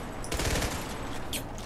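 Rapid gunfire crackles in a short, fairly quiet burst during a shootout in a 1v1 Valkyrie tournament match, with no voices over it.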